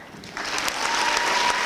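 Parents at an 8th grade graduation celebration break into applause for the graduates, a brief burst of clapping that swells quickly from a crowd in a hall.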